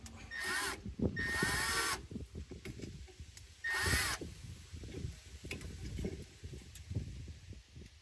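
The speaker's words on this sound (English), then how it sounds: "Now just gonna snug up our hose clamp." A hose clamp being snugged down during a catch can and coolant overflow install, heard as three short bursts of a whirring power driver with small clicks and rattles between them, close and fairly loud.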